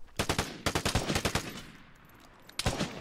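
Automatic gunfire from the survival shooter Vigor, heard as several close, loud bursts of rapid shots with a pause between them before a final burst.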